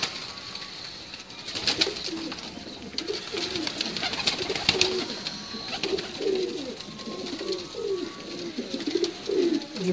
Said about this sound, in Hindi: ये भी काले मुंह वाला मेरा कबूतर है